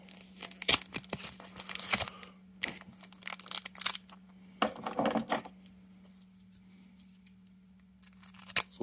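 A Pokemon Darkness Ablaze card pack is opened with a string of short crinkling, snipping and tearing bursts of foil wrapper, close and crisp, separated by quiet pauses and steady background hum, with no talking.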